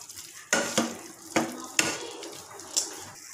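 Paneer being stirred into masala in a pan while cooking Masala Paneer, with several sharp spoon-against-pan scrapes and clinks spaced irregularly over a faint background sizzle, close and moderately loud, no talking.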